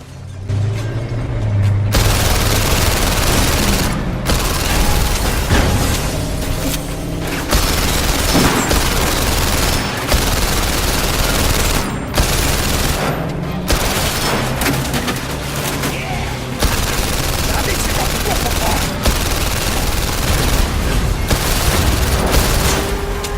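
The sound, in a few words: gunfire from the VR video game The London Heist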